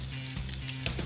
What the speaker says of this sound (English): when it starts sizzling and starts cooking down